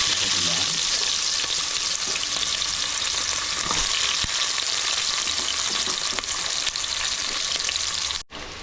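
Onions frying in hot oil with whole spices for beef sukka, a steady close sizzle with faint stirring, cutting off abruptly near the end.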